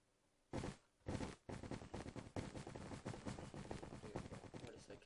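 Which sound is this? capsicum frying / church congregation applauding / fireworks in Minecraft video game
fireworks in Minecraft video game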